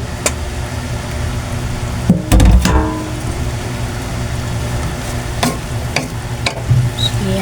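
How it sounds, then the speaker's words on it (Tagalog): Winged beans simmering in boiling second-extract coconut milk for a Filipino ginataang sigarilyas, giving a steady close bubbling sizzle throughout, with a brief clatter of stirring around the middle and a few sharp utensil clicks. "kulong-kulo na po yung ating pangalawang gata"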